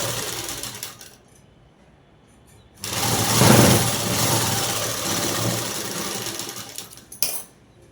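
A sewing machine stitches cloth for a collar-neck dress with lining. After a quiet opening it runs loudly and steadily for about four seconds, then stops with a short final burst.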